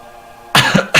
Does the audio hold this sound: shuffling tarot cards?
no